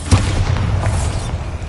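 A Bombarda explosion spell in Hogwarts Legacy on PS5, a deep booming blast with a rumbling low tail that sustains loudly through the short moment.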